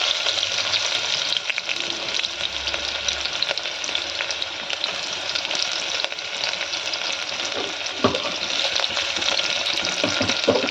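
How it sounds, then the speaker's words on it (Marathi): Onion sizzling steadily in hot oil with mustard seeds and cumin, a loud continuous frying hiss with occasional stirring scrapes and a sharp clatter near the end. "कांदा छान गोल्डन ब्राऊन होईपर्यंत तळायचा आहे."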